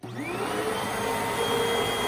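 A Shark Rotator Pro Lift-Away DuoClean upright vacuum cleaner starts up and runs with a steady, loud whirring hum and a rising motor whine, close by and alone.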